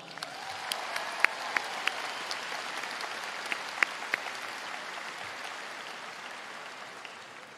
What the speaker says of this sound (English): Please, let's show our gratitude by giving them a round of applause.